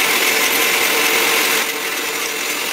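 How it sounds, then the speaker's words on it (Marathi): Mixer grinder whirring as it blends mango pulp with jaggery, a loud, even high-pitched motor whine that runs continuously and eases slightly near the end. "यामध्ये मी आता एक मँगोसाठी 2 चमचे गूळ घालून याला मिक्सरमध्ये फिरवून घेणार आहे"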